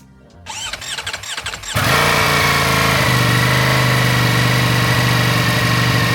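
A stock 2025 Ducati Panigale V4 motorcycle starting up: a brief whirring crank, then the engine catches and holds a loud, steady close-up idle with a sharp, buzzy tone.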